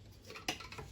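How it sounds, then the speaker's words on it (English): Metal lid set onto a cooking pot of spicy gizzard, a single close clank with a short ringing tail amid soft kitchen clatter. "So at this point, I'm going to cover it for it to cook."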